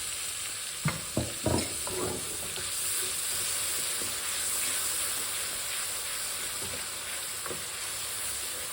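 Masala with garlic and ginger fries in a pan with a steady close sizzle throughout, plus a few stirring scrapes and clatters near the start and scattered light knocks later.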